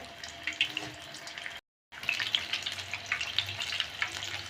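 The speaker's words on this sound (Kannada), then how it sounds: "ಚೆನ್ನಾಗಿ ಡೀಪ್ ಫ್ರೈ ಮಾಡಿ ಈ ಥರ ಕಲರ್ ಬರೋವರೆಗೂ" Eggplant bajji deep frying in hot oil, a steady crackling sizzle close up with one brief dropout midway before the fizzing resumes, no voices.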